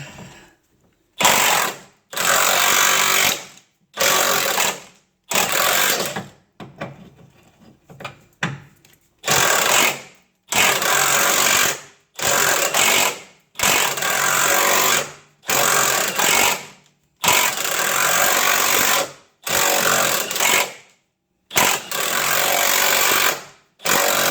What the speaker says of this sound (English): I'm going to go ahead and start loosening these bolts